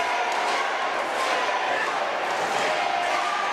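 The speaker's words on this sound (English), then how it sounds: "Crowd here in the Malabar Gymnasium trying to will JJ DeVille to his corner, to his feet" A wrestling crowd in the Malabar Gymnasium roars and cheers steadily, a dense, continuous wash of many voices filling the hall.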